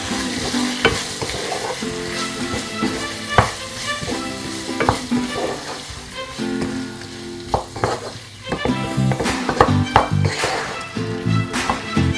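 Chicken pasta sauce stirred in a hot pan, with a steady sizzle and frying crackle under repeated scraping and tapping of a spoon against the pan, close and fairly loud throughout.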